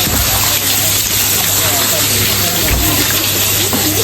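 Water runs hard from a tap in a loud, steady gush as fish is washed clean before grilling, a continuous close splashing with no breaks.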